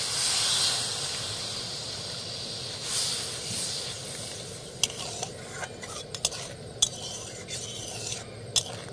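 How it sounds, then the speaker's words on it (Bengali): Milk going into a hot pan while stuffed potol dorma (pointed gourd) cooks, giving a steady hiss and sizzle with a few sharp clinks of a utensil against the pan toward the end. "ছেলে দুধ নিয়েছিলাম সেটা দিয়ে দিচ্ছি।"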